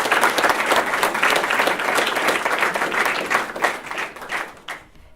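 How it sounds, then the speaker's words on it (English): A crowd claps for cross-country runners at an Eagle Pass High School proclamation, full steady applause that holds for several seconds before tapering off and ending. "Let's give our runners another big round of applause."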